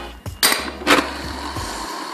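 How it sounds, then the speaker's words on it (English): A cleaned and tightened skateboard bearing spins freely, giving a steady, faint whirring hum with a couple of brief louder clicks near the start, heard alone at close range. "that's the sound of a free-flowing bearing"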